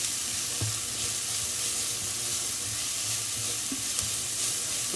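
Sliced leek rounds sautéing in a pan for a brie risotto, giving a steady, close sizzle with a few light stirring knocks and no talking.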